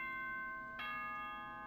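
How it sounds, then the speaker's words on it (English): Bell chime in the video game Danganronpa rings out with sustained tonal harmonics, a clear struck tone near the start and a second strike partway through, moderately quiet and alone. "Bell noises."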